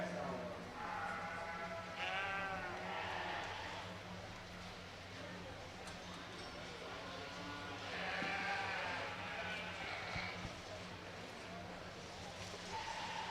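Sheep bleating at a livestock stock show, several calls rising in bursts over steady crowd murmur and a low arena hum, with people talking throughout.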